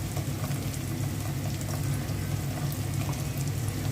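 Onion fries in a pan with ginger-garlic paste and ground spices, a dense steady bubbling sizzle that stays even and moderately loud throughout, with no voices over it.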